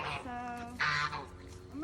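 A goose walking along a line in a backyard poultry pen gives a honk amid outdoor noise, with a voice or other bird calls blending in around it.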